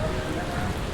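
Warm rain from Tropical Storm Hilary pours steadily on a city street, a dense, even hiss of drops that stays loud throughout, with faint talk beneath it.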